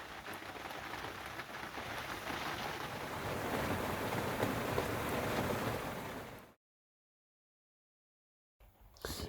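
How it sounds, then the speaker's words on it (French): Heavy rain drums steadily on the roof of a camper van, a dense close roar that cuts off abruptly into silence before briefly returning. "c'est le vrai déluge maintenant"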